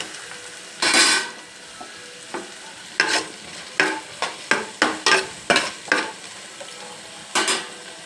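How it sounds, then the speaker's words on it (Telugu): Onion pieces frying in oil for chicken curry, stirred with a spoon: a gentle sizzle punctuated by about a dozen close scraping strokes in an uneven rhythm, with no speech. "ఇవి కొంచెం మగ్గిన తర్వాత ఉల్లిపాయ ముక్క ఉల్లిపాయ ముక్కలు కొంచెం బ్రౌన్స్ కలర్కి రావాలండి"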